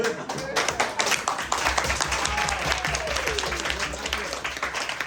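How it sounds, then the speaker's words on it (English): A small group claps together at a Buddhist debate gathering, fairly quiet and steady for several seconds, with a low hum running underneath and some voices mixed in. "Okay, give me a big clapping."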